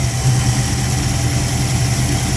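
The 318 V8 of a 1972 Plymouth Gold Duster with a 904 transmission, an engine that had not run in 25 years, idles steadily with a deep, loud, even rumble, close up and with no voices.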